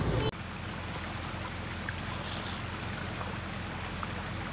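A creek flows with a steady, continuous rush of water, close and even, after a brief knock at the start.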